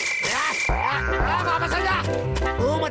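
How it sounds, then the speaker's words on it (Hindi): Deep, repeated croaking calls of a large frog, sounding close and loud, several in quick succession over a brief span. "वाह, कितना बड़ा मेंढक है।"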